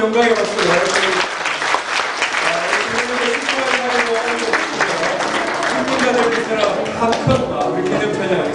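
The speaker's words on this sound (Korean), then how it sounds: "예, 다시 한번 우리 하나님께 큰 영광의 박수를 드립니다." A church congregation applauds during an ordination service at a Korean Presbyterian church in Montgomery, dense sustained clapping filling the room steadily for the whole stretch.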